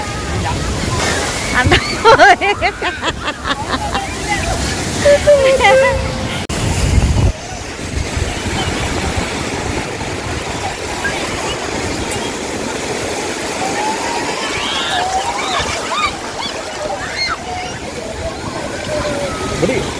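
Sea waves wash onto a beach at sunset, a steady broad surf roar with wind running throughout, while people talk over it in the first part.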